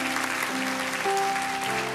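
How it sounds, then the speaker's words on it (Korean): A church congregation applauds its choir during a Sunday worship service in Irvine, a steady, dense wash of clapping filling the room with a faint tonal hum beneath it. "우리 성가대 격려의 박수 한번 해주세요."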